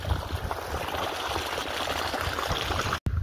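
Water gushes from a motor pump's outlet into a farm field as a steady, rushing splash, close and loud, with a brief dropout near the end.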